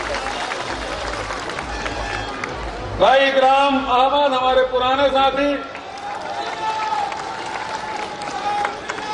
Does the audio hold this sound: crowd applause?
yes